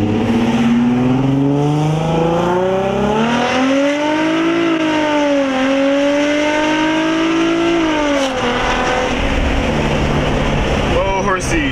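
Infiniti G35 with a loud modified exhaust revving hard and droning with a brassy, trumpet-like tone, rising and falling through long pulls, loud and close throughout.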